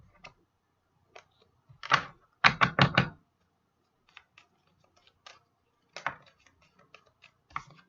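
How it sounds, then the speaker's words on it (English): Fireworks pop and crackle in the background outdoors, sharp scattered bangs with a quick cluster of bursts in the middle, faint to moderate and distant, with quiet gaps between. "Fireworks going off in the background."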